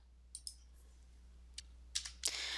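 Computer mouse clicks while submitting a registration form: a handful of sharp, dry, close clicks scattered irregularly over quiet hum, the last pair louder and followed by a brief crisp rustle.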